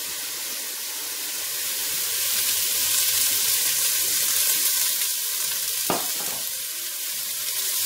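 Onion frying in two tablespoons of olive oil in a pan, a steady close sizzle holding throughout, with one brief sharp knock or scrape near the end.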